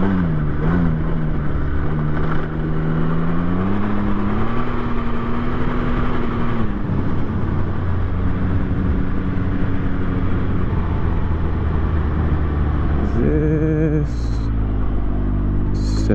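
A 2023 Can-Am Ryker 900 three-wheeled motorcycle rides over dirt, its engine rumbling steadily and close throughout, with pitch shifts as it changes speed and a brief rise near the end.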